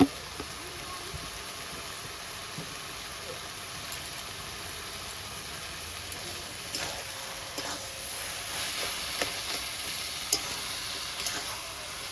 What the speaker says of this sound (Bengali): আমি এবার শুধু নাড়তে থাকবো।